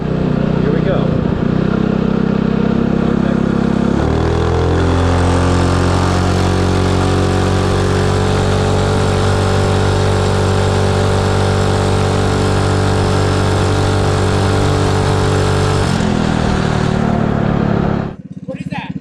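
A Coleman B200R dirt bike's small engine revs hard and holds a loud, steady buzzing drone, rising in pitch, sustaining at high revs, then dropping back near the end, heard close up.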